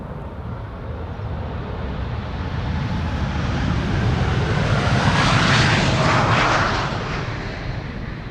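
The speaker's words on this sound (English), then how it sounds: "In the meantime, KLM taking off to Las Vegas." A KLM Boeing 787-10 Dreamliner, flight 635 to Las Vegas, takes off from Amsterdam Schiphol with a deep, sustained jet roar that slowly swells to a loud crackling peak and then begins to ease off.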